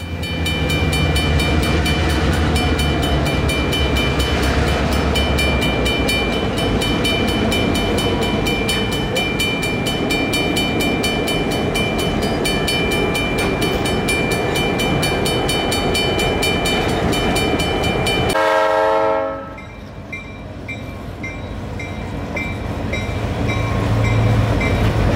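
EMD six-axle diesel locomotives thunder past with a steady, loud rumble of engines and rolling wagons, a horn tone riding above. The roar drops away abruptly, then slowly builds again.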